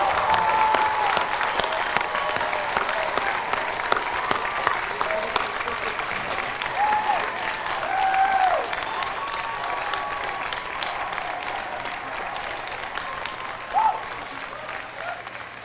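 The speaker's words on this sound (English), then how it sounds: "Turn around and give them a thundering round of applause" A large audience at an Ithaca College ceremony breaks into a long, thundering round of applause, dense clapping sustained for many seconds with scattered cheers and voices mixed in.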